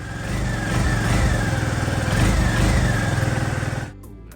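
A KYMCO Spade 150i scooter engine runs steadily and close for about four seconds with a smooth rev in the middle, then cuts off abruptly, followed by a few faint clicks.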